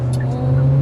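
Engine note of a Hyundai Sonata held in sport mode during hard cornering, heard from inside the cabin as a steady, loud drone with rising revs and a voice talking over it.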